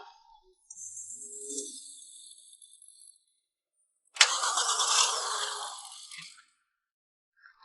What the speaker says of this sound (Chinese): 你进去再发动试一下